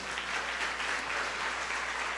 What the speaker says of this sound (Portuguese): Agora aplauda ao Senhor